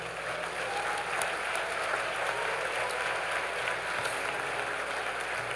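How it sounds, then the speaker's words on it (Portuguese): Steady applause from a church congregation fills a large room, sustained and even throughout with no talk over it. "Dá uma salva de palmas ao Senhor aí."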